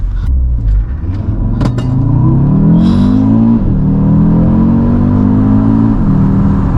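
An Audi RS Q3 engine revs hard on a launch-control start and climbs in pitch through rapid gear shifts, loud and close, accelerating strongly away.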